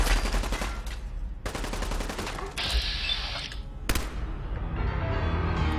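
Gunfire in the video game Fallout 4: several loud, close bursts of rapid shots separated by brief pauses, with sharp cracks and rumbling echoes, no talking.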